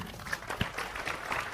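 An audience applauds at a gathering with Cak Nun and Kiai Kanjeng, producing steady, moderately quiet clapping that holds evenly throughout.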